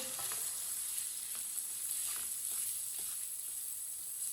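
Spices and vegetables frying for arbi (taro root) curry in a pan over low flame, a steady close sizzle with faint crackles running evenly throughout.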